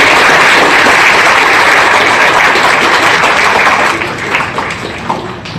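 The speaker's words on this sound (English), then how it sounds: "can we have a good round of applause for all?" Audience applause for a panel of industry experts at a Salesforce Agentforce session fills the hall loudly and steadily, then thins out and tapers off toward the end.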